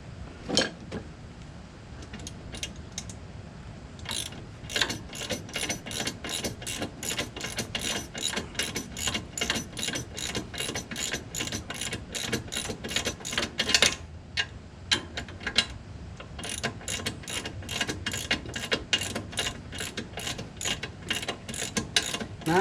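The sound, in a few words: ratchet tightening front strut nut on Ford Expedition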